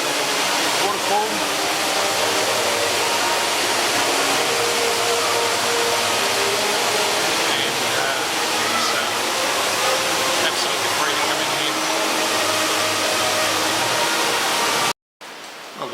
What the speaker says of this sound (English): And the centrepiece is of course this incredible waterfall.